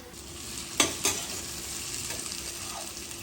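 Eggs being stirred and fried in a spiced masala in a home kitchen: two sharp scrapes of the utensil against the pan, then a soft continuous sizzle, close and fairly quiet, with no talking.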